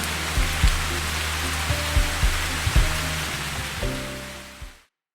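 Rain falls steadily as a dense, even hiss on an outdoor picnic setting, with scattered low thumps and a faint tonal drone beneath, before cutting off abruptly near the end.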